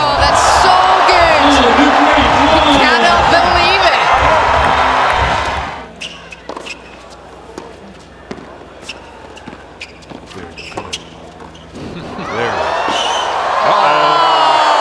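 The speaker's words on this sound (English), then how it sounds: "And how nice to hear a crowd reaction" At a UTS Los Angeles tennis exhibition, the crowd erupts in loud cheering and whooping after a point, falls quiet with ball bounces and footsteps, then breaks into cheers again.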